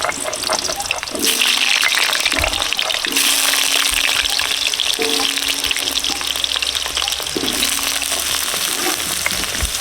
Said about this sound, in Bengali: হ্যাঁ, তেল গরম হয়ে গেছে, আলু দিয়ে দিচ্ছি।